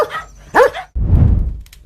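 Stray dogs give a couple of short, close barks, followed by a rough, noisy burst that fades out, all brief and loud.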